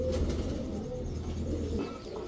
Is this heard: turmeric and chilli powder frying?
no